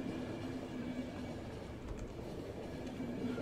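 A train rolls along in the video game The Final Station, giving a steady, continuous rumble with a low droning hum and faint rhythmic clatter throughout, with no voices.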